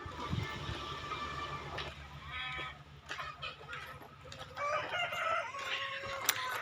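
Roosters crow several times at a distance over a low rumbling background, with some clucking between calls and no speech.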